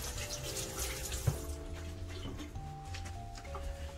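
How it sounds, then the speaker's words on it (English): Tap water runs steadily into a kitchen sink as hands are washed, a soft continuous splashing with faint clinks, close and fairly quiet. "Let me wash my hands."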